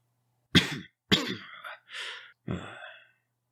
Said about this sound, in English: The king takes a second to cough.